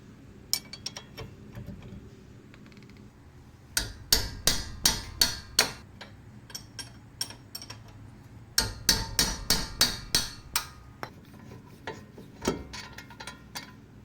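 Metallic clicks and knocks of a 14 mm wrench working the caliper bracket bolts on a 2017 Mazda Miata MX-5 rear hub, coming in two close bursts of rapid ratcheting taps with scattered single clicks between.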